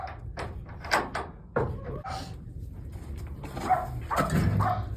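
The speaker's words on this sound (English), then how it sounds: "The dogs are barking at the sheep over there." Dogs bark at sheep in scattered bursts at a moderate distance on a farm, mixed with knocks and shuffling outdoor noise.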